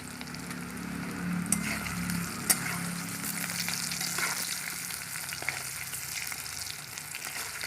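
Potatoes frying with turmeric in a pan for a Bengali duck egg curry, a steady close sizzle with occasional stirring clicks and pops, and no voices.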